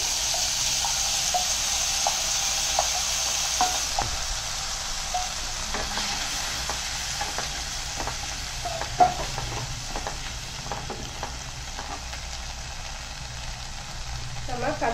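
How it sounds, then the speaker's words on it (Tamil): Boiled chickpeas sizzle and fry in a pan with onions and curry leaves as they are stirred, a steady close hiss broken by scattered clicks and scrapes of the spoon against the pan. "இந்த கடலையை ஆட் பண்ணிக்கிறோம்."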